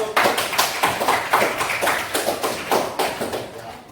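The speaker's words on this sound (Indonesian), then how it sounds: "berikan aplaus untuk" Loud applause for a student group after a classroom presentation, a close burst of many hands clapping in a rhythmic, slightly uneven pattern for several seconds.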